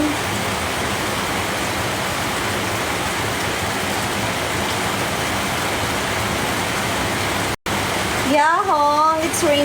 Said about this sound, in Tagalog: It's raining here. The rain just started.